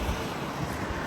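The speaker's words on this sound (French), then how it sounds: "je sais pas si vous entendez, mais il y a quand même beaucoup de vent" Strong wind buffets the microphone at an open stadium, a steady, close, broadband roar with no talk over it.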